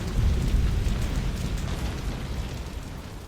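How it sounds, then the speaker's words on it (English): Fire ships exploding in the game Assassin's Creed Rogue, a loud, dense rumbling roar of blasts and burning that swells at the start and holds steady without voices. "Dear God, fire ships!"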